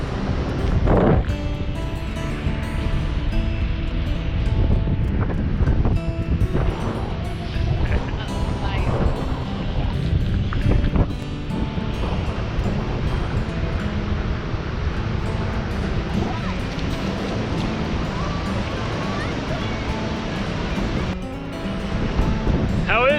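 Ocean surf and wind on the coast at Ocean Shores, a steady, loud wash of breaking waves with gusty microphone buffeting, while people talk over it.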